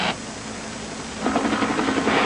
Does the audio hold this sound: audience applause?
no